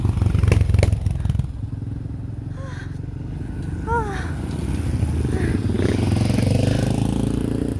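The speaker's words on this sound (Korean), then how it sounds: "오토바이 부대들이 지나고" A group of motorcycles rolls past on a road near Sapa, Vietnam, a loud continuous engine drone with clattering that dips and swells again as the bikes go by, with voices faint underneath.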